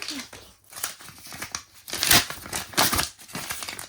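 Paper lunchbox surprises are opened close up, with irregular bursts of crinkling and rustling paper and a few sharper tearing rips, moderately loud and without speech.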